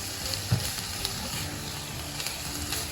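Diced ham and onions sizzling in a pan over medium-high heat, a close, steady fry with a few soft stirring clicks and scrapes, no talking.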